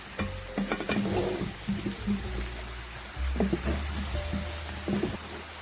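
Mushrooms sautéing in butter in a pan give a steady close sizzle, broken by scraping stirs and soft clacks from a utensil, with no voices.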